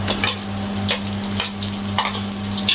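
Sliced onions and ginger fry in hot oil with garlic for a squid dish, a close continuous sizzle punctuated by repeated spatula scrapes and stirring knocks, with a low hum underneath and no speech.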